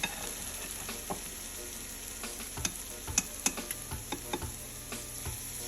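Banana fritters frying in hot oil in a pot, a steady quiet sizzle with scattered close clicks and taps from utensils as batter goes in, no talk.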